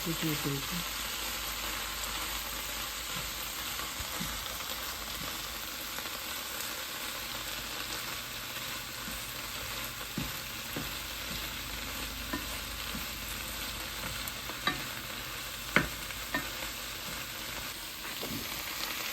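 Kale mixed with curry is stirred and fried in a pan, making a continuous, even sizzle that runs for the whole stretch, broken only by occasional faint scrapes and taps of the spoon.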